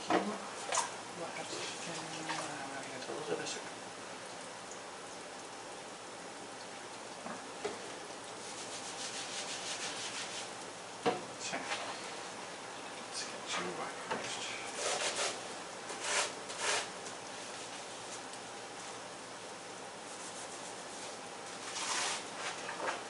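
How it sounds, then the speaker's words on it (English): A few dirty dishes are washed by hand in a home kitchen, with long stretches of rubbing and scrubbing, water splashing and occasional clinks of dishware throughout. "Get my few dirty dishes done. A few dirty dishes washed."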